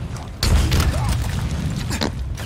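Explosions go off in Halo Infinite multiplayer: a heavy boom hits suddenly, followed by rumbling blasts and clatter of combat, with a player's voice partly audible under the noise.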